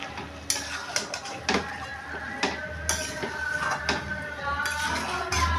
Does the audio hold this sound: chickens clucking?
no